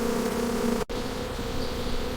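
Bees buzz in a dense, steady drone at a beehive raided by a honey badger, broken by a brief dip in sound midway before the humming resumes.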